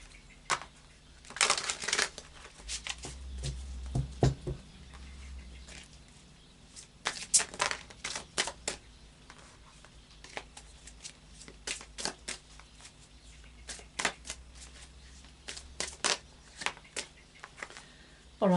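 Anna K tarot cards shuffled by hand in a run of quick riffling, slapping bursts, some dense and others scattered, close and fairly quiet with no talking.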